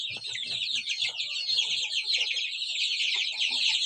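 A flock of month-old chicks and hens on a farm fill the space with continuous high-pitched peeping and cheeping, with lower intermittent clucks underneath, steady and close throughout.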